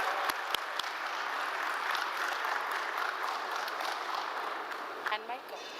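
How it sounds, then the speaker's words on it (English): An audience at an interior designers' fellowship meet gives a steady, sustained round of applause for an architect coming up to speak, with a few sharp knocks at the start and voices briefly audible as it fades. "Can we have a huge round of applause for Jignesh"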